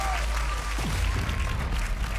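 Crowd applauding and cheering at a Valorant esports match between MIBR and Sentinels, a dense continuous roar of clapping filling the short stretch, with no clear speech.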